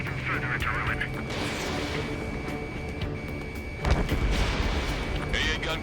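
Artillery fire and explosions rumble through an Ace Combat 7 air-combat mission against anti-aircraft guns, with repeated booms and a sustained engine-like drone, mixed with radio-style voices talking.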